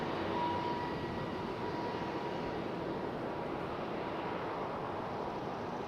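A Boeing 757 airliner departs for Atlanta from Raleigh-Durham International, its engines a faint, steady distant roar that holds evenly throughout with no talk.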